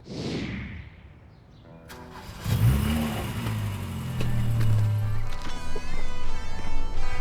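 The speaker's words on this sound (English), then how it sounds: "Would you mind if Willy took this beautiful car for a test drive?" A black 2009 Chevrolet Corvette on a test drive revs up in a loud surging burst midway, then its engine keeps rumbling beneath other sounds; a quieter whoosh comes first.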